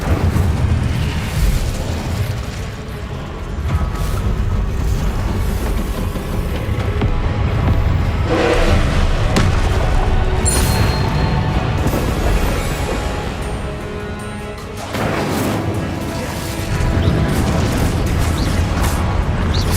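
Fiery Incendio spell blasts from the Hogwarts Legacy video game, several loud booming bursts in a row with a broad roar between them, set over a steady game soundscape with no talking.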